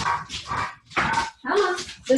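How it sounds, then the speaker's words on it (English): Several dogs bark in loud, close bursts as they are let outside, with yips and whimpering between three or four clusters of barking separated by short pauses. "Hold on, let me let the dogs out."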